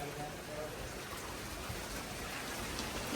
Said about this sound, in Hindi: तो गाइस वापस से बारिश स्टार्ट हो गई है।